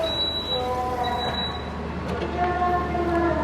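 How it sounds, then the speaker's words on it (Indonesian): A local commuter train rolls past on the line near Cikarang, a steady close rumble with a high metallic squeal or whistle tone that comes and goes over the wheel noise. "Kayaknya kereta lokal ya."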